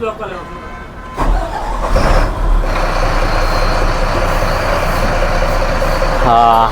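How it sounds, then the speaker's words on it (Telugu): A Bharat Benz bus engine cranks and fires, then settles into a loud, steady, close diesel rumble, with a brief hiss and a voice talking over it. "బస్ అయితే స్టార్ట్ చేస్తున్నాం"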